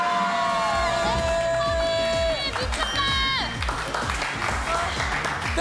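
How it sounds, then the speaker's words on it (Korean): Loud crowd applause and cheering at a university festival, dense clapping and shouts from a large audience over pounding music and bright synth tones, with a voice calling out briefly. "우리 최고의 MC, MC 섭에게 박수!"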